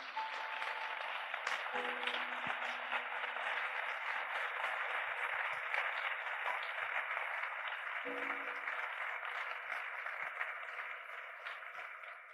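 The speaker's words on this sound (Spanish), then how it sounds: "¿por qué no le das un aplauso a Él en esta hermosa mañana?" A church congregation claps together during a Sunday morning service, a steady, dense patter of many hands held at an even level for the whole stretch, with no voices over it.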